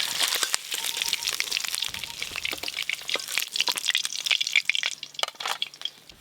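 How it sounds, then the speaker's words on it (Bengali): Singhi fish fry in hot oil in a pan, giving a bright, continuous crackle and sizzle with sharp pops and spatters close by, steady throughout the stretch with no voices. "এই দেখো, এরকম করেই মাছগুলো ভাজতে হয়।"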